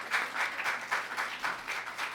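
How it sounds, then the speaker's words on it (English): A small crowd at a city council meeting claps in a steady patter for a couple of seconds, moderately loud and fairly close. "Y'all just clapping."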